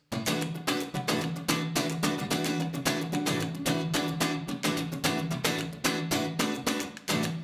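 Rhythmic strummed guitar with a funky groove shifted by a sixteenth note plays over a drum beat, with sharp regular chord attacks driving a steady, loud pattern throughout.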